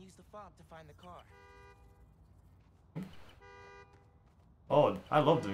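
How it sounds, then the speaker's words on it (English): A car horn sounds in short toots, triggered from a key fob in a Spider-Man video game, with tonal honks between stretches of speech and a louder burst near the end. "Now I can use the fob to find the car."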